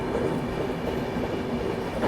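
The Maharashtra Sampark Kranti Express runs along steadily, heard from inside as a quiet, continuous low rumble of wheels and carriage with no voices.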